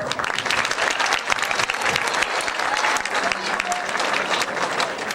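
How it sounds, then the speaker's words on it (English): A crowd applauds loudly and continuously at a school assembly, dense clapping filling the room for several seconds without a break. "let's give a round of applause for Stand Up"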